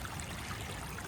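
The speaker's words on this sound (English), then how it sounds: "Right up, you can hear the water." Floodwater running through the flooded Freshney valley, a soft steady rushing and trickling wash, faint and continuous with no voices.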